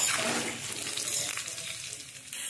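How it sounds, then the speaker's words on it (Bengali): Short burst of hot sizzling as amla (Indian gooseberry) fries in a pan, a dense close hiss with faint stirring underneath. "আমলকিটাকে একটু ভেজে নিতে হবে ভালো করে।"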